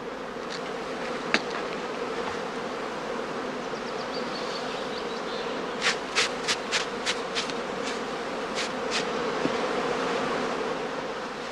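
Honeybee swarms drone around straw skeps draped in gauze transport cloths, a steady, dense buzz that never lets up, with a few brief, higher chirps cutting through it.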